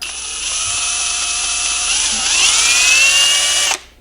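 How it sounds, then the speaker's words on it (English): A power drill spinning an old spool to strip fishing line whines at a steady high pitch, speeding up slightly midway, then cuts off abruptly near the end. "get an old spool, attach it right to your drill"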